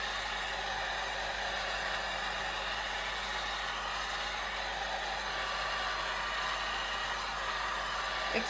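A hair dryer blows over an alcohol ink painting, a steady, even whooshing hum that stays constant and close throughout, with no talking.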